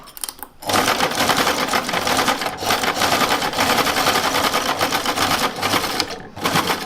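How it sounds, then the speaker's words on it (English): A sewing machine stitches a shift boot cover with a fast, steady mechanical chatter, loud and close, starting after a short pause and running almost without a break. "that's how sewing machines work"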